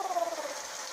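A person vocally imitates a pet goose's soft, contented cuddle sound, a short, faint, gliding whistle-like tone that slowly falls in pitch.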